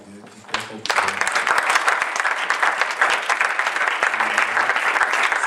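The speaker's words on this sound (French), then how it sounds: "Je voudrais qu'on acclame Dieu." A church congregation at a Christian seminar breaks into loud, sustained applause, dense and close, continuing steadily after a brief moment of talk at the start.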